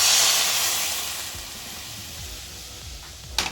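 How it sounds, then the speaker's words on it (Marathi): Milk poured into a heated wok gives a hiss that is strongest at first and fades over a few seconds, then a short sharp clatter comes near the end. "कढई तापली, आता आपण इथं दूध ओतू।"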